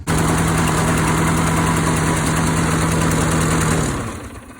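A lawnmower engine running poorly and smoking runs roughly and steadily at close range, with a rattling, uneven drone that sags and winds down at the end.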